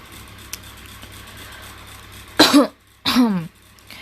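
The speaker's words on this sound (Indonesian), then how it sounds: "Maaf lagi batuk" Two short, harsh coughs close by from a person wearing a face mask, a brief pause between them, over a quiet low background hum.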